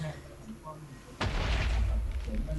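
A sudden loud blast of a Minecraft creeper explosion bursts in partway through, booming deep and rumbling as it fades, after quiet background sounds.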